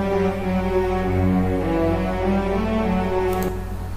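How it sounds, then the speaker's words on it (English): A dark, sustained melody built in FL Studio for a remake, layered with cellos and a choir, plays smoothly and continuously at steady volume with no voices over it. "So I picked the dark cellos and the choir"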